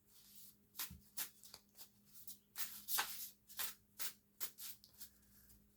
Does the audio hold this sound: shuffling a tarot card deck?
yes